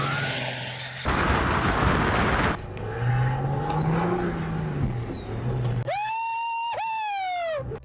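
A 1940s Fargo FL1 truck drives on the road with a steady, loud engine drone and some rising revs, then a sharp high whine that climbs and falls near the end.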